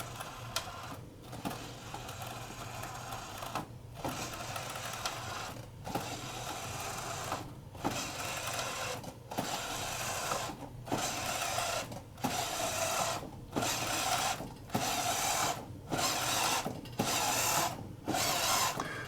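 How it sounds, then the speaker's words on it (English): Electric drivetrain motors of a B9 Lost in Space robot whir in repeated bursts of a second or two, separated by short pauses, close and steady with no talking. "Finding the top speeds. Torque and strength of the motors."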